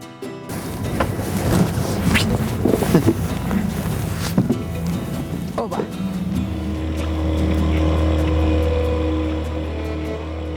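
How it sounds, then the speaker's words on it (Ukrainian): A small fishing boat skims fast across the sea off Nautnes, Norway, its engine roaring steadily with choppy water noise and wind, then settling into a lower, smoother hum. Speech is faintly present. "Стрімко розрізаючи море, наш човник під керівництвом мого друга Себастьяна ніс нас назустріч пригодам"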